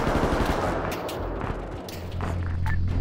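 Sustained machine gun fire rattles during a trench assault, a dense continuous burst of rapid shots at moderate distance with no talk over it.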